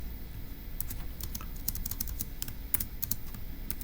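Fast bursts of clicky keystrokes on a computer keyboard, close and crisp over a low steady room hum, with no one speaking.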